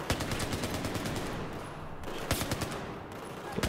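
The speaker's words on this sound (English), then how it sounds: "Burst fire." Burst gunfire in Battlefield 4's Shanghai mission sounds as sharp, fast clusters of shots at close range, loud and repeated over a busy battle background.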